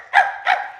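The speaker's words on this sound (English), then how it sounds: "I would know that bark anywhere" Peanut, a smuggle dog in a radio play, gives two sharp, close barks in quick succession, each short and clean against silence.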